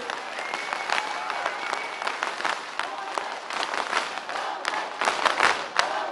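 Warm audience applause for a singer at a televised talent competition final, broadband clapping mixed with crowd cheers and whoops, rising in intensity toward the end.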